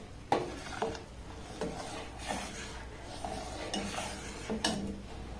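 Milk for chhena is stirred in a pot as a vinegar-water mixture is added little by little to curdle it, giving soft, irregular scrapes and clinks of a spoon over a quiet, low bubbling background.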